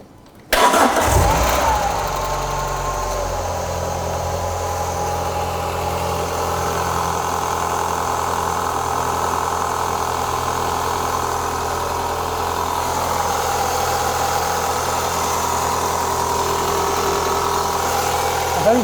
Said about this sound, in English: Right, let's give it a flick,